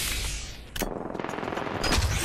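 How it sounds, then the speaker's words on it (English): Gunfire in the Apex Legends video game: a sharp burst of shots, then rapid, dense automatic fire that carries on loudly for a couple of seconds, with no talking. "They're shooting at me."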